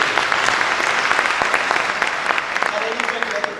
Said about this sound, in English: We should give them a loud clap